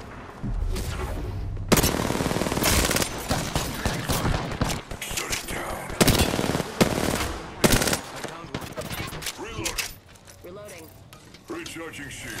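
Apex Legends battle gunfire, with loud bursts of automatic fire and single shots coming in irregular clusters and dropping into quieter gaps.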